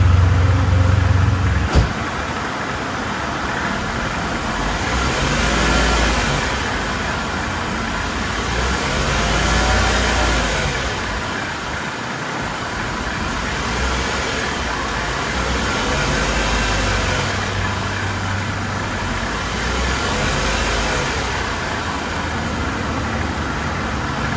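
The engine of a crashed Mercedes car, running without coolant, idles steadily and loudly for a long stretch, with a slow rise and fall in its rumble and no talking.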